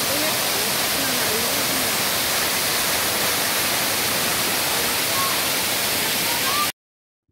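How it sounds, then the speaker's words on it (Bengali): Bamni waterfall in Purulia, a loud, steady broadband roar of falling water close by, with faint voices beneath it, cutting off abruptly near the end. "আর এদিকে ঝর্ণার আওয়াজ হয়তো তোমরা শুনতে পাচ্ছ।"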